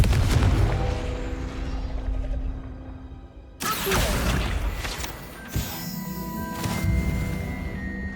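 Confringo fire spell blasts in the Hogwarts Legacy video game: loud booming, crashing bursts with sharp onsets, one big impact near mid-clip and another a couple of seconds later, over rumbling game ambience.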